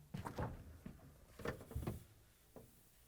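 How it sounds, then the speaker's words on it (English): A Whirlpool, KitchenAid or Maytag refrigerator's fresh food door is pulled open, giving a few close soft thumps and clunks followed by a brief rattle, quiet and without talk. "Open the fresh food door."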